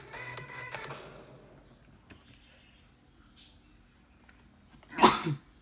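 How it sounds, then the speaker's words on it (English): A single loud, close sneeze bursts out near the end, following a few seconds of quiet room noise and faint background sounds. "I just left to sneeze, hold on."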